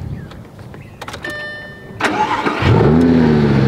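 A rally car's engine cranks and catches on ignition, a short whir of the starter giving way to a loud, steady mid-pitched running note that builds and holds close by.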